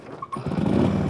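A 1946 Knucklehead motorcycle engine, choked and at about quarter throttle on a cool morning of roughly 10 °C, catches after a brief quiet moment and settles into a loud, steady, close-up rumbling idle.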